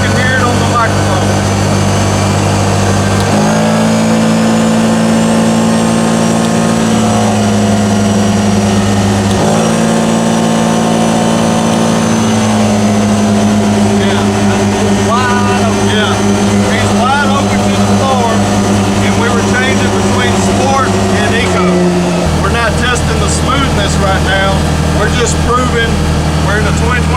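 A CFMOTO UFORCE 1000 UTV engine runs in eco mode, a loud continuous drone with shifting pitch as the engine changes speed, holding steady for long stretches before dropping lower near the end.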